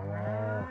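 A baby goat in the farming game Stardew Valley lets out one brief, loud, nasal bleat with a slight wavering dip, heard alone.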